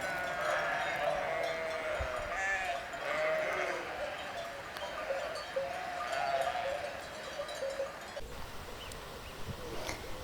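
Many sheep bleat in overlapping calls over a steady outdoor hum, with occasional clanking bells and a faint shepherd's voice, the flock sounding fairly near, in the mountains of the Ubaye.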